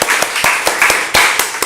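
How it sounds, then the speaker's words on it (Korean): A church congregation claps to congratulate members: loud, close individual claps in an uneven rhythm, about a dozen distinct hits over under two seconds rather than a full ovation, with no talk over it. "다시 한번 우리 박수로 한번 축하드립니다"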